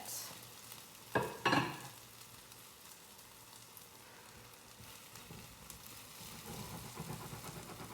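Kuku sabzi, a Persian herb frittata, sizzles quietly in oil in a pan, with two sharp utensil clatters near the start and a fuller frying hiss building toward the end.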